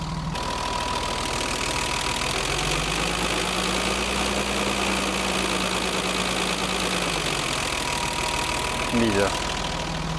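A BMW 325i E30 with the M20 engine idles steadily after a valve adjustment, a continuous close engine hum running throughout, with a brief spoken word partway through.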